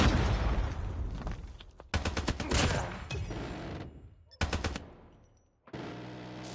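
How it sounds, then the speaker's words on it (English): In COD Mobile, a sentry gun fires rapid automatic bursts, loud and close, in several separate volleys that each ring out and fade. "the sentry definitely shoots a lot further than it used to"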